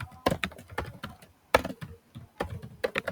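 Computer keyboard typed in bursts of quick, close clicks and taps while writing React code, with short pauses between runs of keystrokes; no talking.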